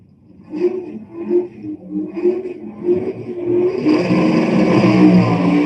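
A 1969–70 Chevrolet Camaro stick-shift drag car at a drag racing event, first burbling and revving in short pulses, then roaring into a loud, sustained full-throttle launch close by.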